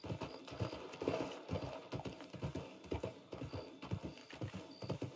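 Horse hooves clip-clopping in Red Dead Redemption 2, a steady walking rhythm of distinct hoof strikes on hard ground, close and fairly quiet, with faint background tones.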